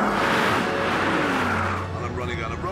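A Mercedes Brabus SL roars along a runway at very high speed, with a loud sustained engine and wind rush, while someone talks over it.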